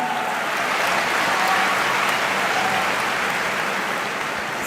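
A large audience at a live speech event claps in sustained, dense applause that holds steady and loud throughout, with no voices over it.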